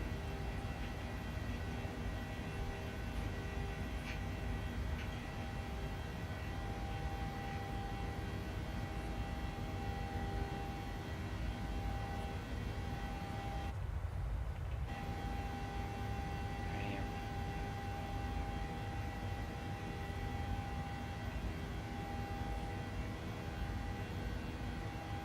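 Steady airliner engine roar in Microsoft Flight Simulator 2020 as the plane climbs out after takeoff from Lisbon, a loud continuous drone that holds for the whole stretch with one brief dip partway through.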